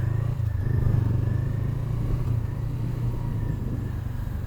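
Steady road traffic rumbles close by, a continuous low engine drone of passing cars and motorcycles with a faint clatter, holding an even loudness without a break and with no talk over it.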